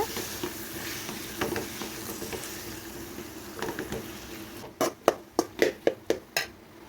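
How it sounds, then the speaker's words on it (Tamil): Six boiled potatoes being mashed in a pan for a crispy bonda filling: a soft scraping, stirring texture, then a quick run of sharp, rhythmic thumps and clinks near the end, with no talking. "வேக வச்ச 6 உருளைக்கிழங்கு சேர்த்துட்டு இந்த மாதிரி நல்லா மசிச்சிடுங்க."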